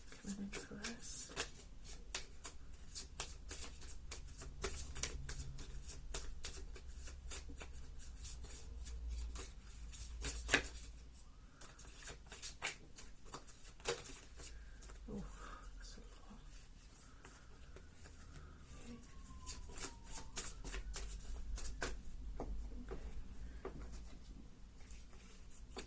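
Celtic oracle cards shuffle steadily for a long stretch, a close papery flutter of crisp riffling clicks and slides, carrying on beneath a voice talking throughout.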